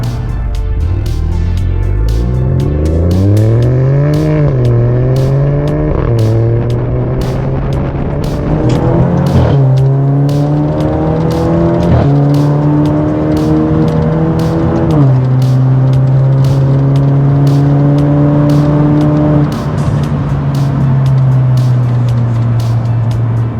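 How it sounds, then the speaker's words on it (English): Alfa Romeo Giulia turbo four-cylinder through a Centerline Performance Competizione exhaust, loud and close, accelerating through several gears with rising pitch and distinct shifts, then settling into a steady cruise drone. "this exhaust, the Centerline Performance Competizione, this is about as good sounding as turbo 4-cylinders get"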